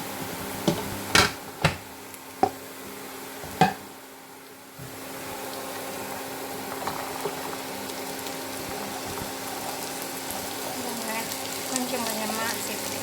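Cut snake gourd drops into a hot pan of browning seasoning for a stir-fry, with a few sharp pops and clatters first, then a steady close sizzle and frying crackle.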